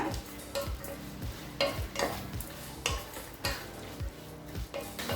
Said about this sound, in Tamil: இப்போ எல்லா காயும் சேர்த்து நல்லா வதக்கிக்கலாம்.